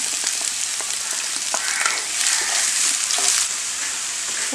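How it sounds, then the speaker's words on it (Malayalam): Finely chopped onions frying in a pan with ginger and garlic for beef kozhukkatta, a continuous close sizzle with occasional stirring scrapes and small pops, no talking. "നമുക്കിതിലേക്ക് സവോള ചെറുതായിട്ട് അരിഞ്ഞത് ചേർത്ത് കൊടുക്കാം"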